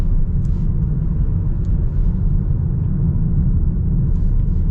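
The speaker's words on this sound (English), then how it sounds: "this is an economy car, so you can get a little bit more road noise, but it's not bad" Steady low road rumble inside a 2025 Toyota Corolla economy car while driving, a constant dense hum of tires and wind with no voices over it.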